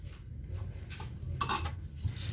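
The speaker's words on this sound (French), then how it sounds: "On va bien mélanger tout ça." Marinade being mixed in a bowl with a spoon, rice vinegar among the ingredients for Vietnamese banh mi: close clinks and scrapes of utensil against dish, a louder clatter midway, over a low steady background with no talking.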